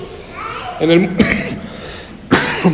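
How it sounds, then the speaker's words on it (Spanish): Two sharp coughs from a person with flu during a church Mass, one near the middle and another toward the end, close and fairly loud, with a low murmur of background noise between them. "estoy con gripe y me va a venir la tos varias veces"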